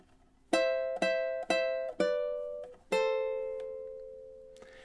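Ukulele riff from measure 33 of Jimmy Buffett's Margaritaville: five crisp plucked notes in a steady rhythm, then a final note left ringing and slowly fading, played close and alone with no talking.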